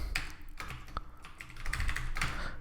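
Quick, irregular keystrokes on a computer keyboard as a script tag is typed, close and clear with short pauses between bursts of clicks.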